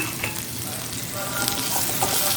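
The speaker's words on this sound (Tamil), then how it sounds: "அந்த வெங்காயத்தையும் வதக்கிக்கலாம்" Onions, a large onion plus a handful of small shallots, sauté with ginger and garlic in a pan for a cauliflower pepper fry, giving a steady, dense sizzle with soft stirring scrapes throughout and no talking.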